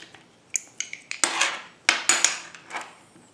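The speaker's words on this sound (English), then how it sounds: "we use the garlic press." Polymer clay pressed through a metal garlic press, giving a string of sharp metallic clicks and scrapes in irregular bursts, fairly close and clear with no voices.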